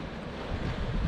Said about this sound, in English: with it being so windy, there's a lot of waves blowing up here